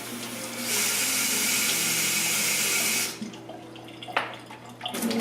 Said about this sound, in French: On met à peu près ça d'eau dedans